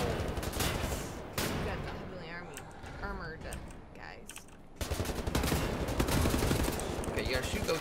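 Gunfire in the shooter game Wolfenstein: The New Order: rapid bursts and volleys of shots roll on and off throughout, with players talking over the action.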